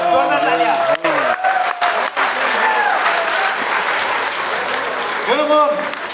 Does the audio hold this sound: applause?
yes